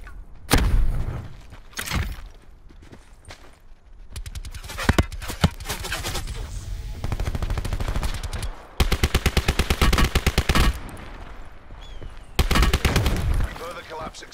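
Bursts of rapid automatic gunfire and single heavy shots from Call of Duty Blackout, loud and close, with rattling volleys in several clusters and voices talking between them.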